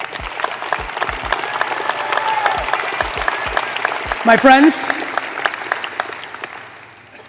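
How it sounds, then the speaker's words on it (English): An audience applauds in a dense, sustained wash of clapping through a motivational talk, with a voice briefly speaking over it near the middle before the applause thins out at the end. "I'm gonna let this get claps."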